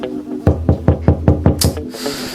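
Knuckles rap on a door in a quick run of six sharp, evenly spaced knocks, close and loud, followed by a short rustle.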